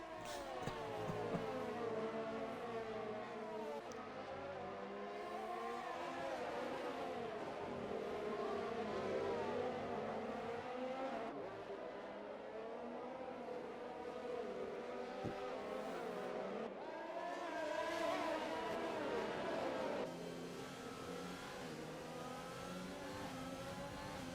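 Several race cars scream past in a tight pack during a Hungary round of the XRL X1 series, engines revving and Dopplering steadily for the whole stretch, loud and continuous with a brief rising wail near the end.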